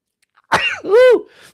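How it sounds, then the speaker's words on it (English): A single loud, close sneeze bursts out, with a sharp intake followed by a voiced, tonal explosion and a short trailing breath, heard on its own in quiet surroundings. "the health insurance person appears and I go into a sneezing fit"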